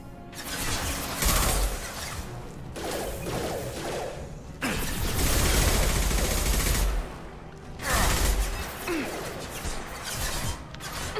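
Bursts of gunfire in Mass Effect Legendary Edition, loud volleys of shots broken by short pauses, with mechanical clanks mixed into the battle noise.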